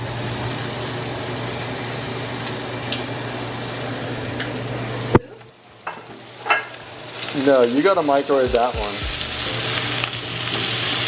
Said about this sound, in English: And then I'm flipping the shrimp now.